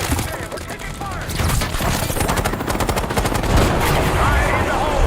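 Sustained automatic gunfire in the Call of Duty: Black Ops 6 video game, rapid dense bursts rattling continuously at steady loudness, with voices talking over the shooting.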